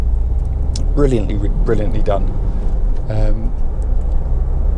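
A Honda CR-V 1.6 i-DTEC EX 4WD diesel family estate car drives along with a constant low engine and road rumble, heard from inside the cabin under a man's brief speech.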